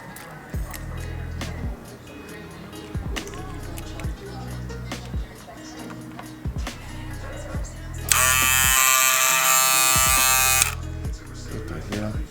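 Hair clipper fitted with a Philthy Blendz mod buzzes steadily at close range and loudly, with a brief stronger burst toward the end, while people talk over the hum.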